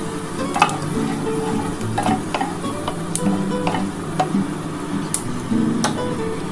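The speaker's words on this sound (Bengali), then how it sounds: "বন্ধুরা আমার তেলটা গরম হয়ে গেছে, আমি 5 ফোড়ন দিয়ে দিলাম।" Panch phoron and two dried chilies fry in hot mustard oil, a loud close sizzle with scattered sharp crackles and pops from the spices.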